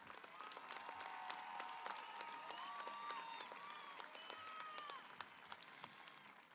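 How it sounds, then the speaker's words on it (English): Graduation audience applauding students at an evening high school ceremony, a sustained crowd clapping with scattered sharp claps and faint whistles and cheers, heard from some distance. "Please join me and give our phenomenal students a round of applause"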